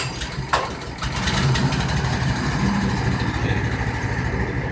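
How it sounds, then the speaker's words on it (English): A Honda GX engine on a concrete cutter catches after a short starting pull and settles into a loud, steady close-up running drone, with one brief spoken word near the start. "As you can see, the engine is easy to start, and during this process, the engine is set at high speed to increase cutter efficiency."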